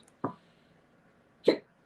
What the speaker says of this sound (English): Yeah, I am hiccuping this morning.